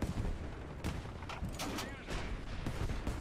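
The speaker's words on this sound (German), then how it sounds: "Hat er Munition erstmal ordentlich weggesprengt, auch gut." Tank ammunition detonating in War Thunder: a dense, rumbling run of explosive bursts and cracks, loud and continuous over about three seconds, with a few sharper pops standing out.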